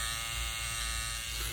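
A Babyliss FX3 hair trimmer with a 7,200 RPM motor buzzes steadily at close range, a dense, even electric drone with no break.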